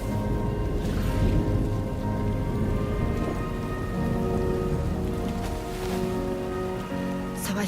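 Steady rainfall in the video game Death Stranding 2, a dense, even patter on surfaces that stays loud throughout with a faint distant rumble.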